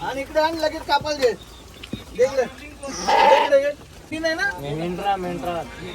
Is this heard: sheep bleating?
yes